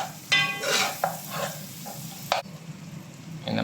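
Ginger garlic paste sautéing in a pan for tomato rice, with soft sizzling and several sharp scrapes and clinks of a spoon stirring against the pan, no voices.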